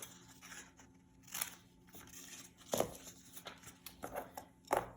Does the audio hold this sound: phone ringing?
no